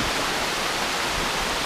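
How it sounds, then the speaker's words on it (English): Stream water rushes over rocks near a waterfall on a New Hampshire mountain trail, making a continuous, even hiss of flowing water at moderate level with no voices. "you'll be crossing a lot of water, kind of walking on the rock in the middle of the water here"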